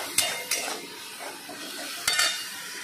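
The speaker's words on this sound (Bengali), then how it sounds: "এবার মশলাটাকে পুরো কষাতে হবে।" Spice paste for a rohu fish curry is stir-fried in a pan with a soft sizzle, broken by a few sharp scrapes and knocks of a spoon against the pan, close and fairly quiet.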